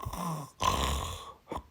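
A person imitates snoring through the mouth with the nose squeezed shut, producing a few rough, rattling breaths close up: a short snort, a longer throaty snore, then a brief final rasp.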